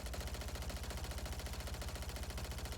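Rapid automatic fire from the Striker in Call of Duty: Modern Warfare 3, a steady unbroken burst of shots running through the whole moment, loud and close with no talking.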